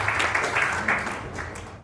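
A poetry recital audience claps briefly in a burst of applause, fairly close and dense, fading out toward the end.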